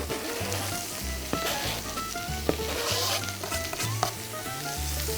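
Chopped vegetables with onion fry and sizzle steadily in a pan, a continuous hiss with a few faint clinks of a utensil, close, while music plays underneath.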